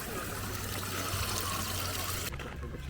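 Ice-cold spring water from deep underground sources runs in a steady, continuous trickle and splash at a public spring in Kharkiv, an even, fairly quiet wash of flowing water with no talking.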